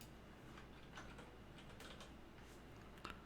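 Faint typing on a computer keyboard during a backend programming class: quiet, irregular keystrokes in short bursts over a low steady background hum.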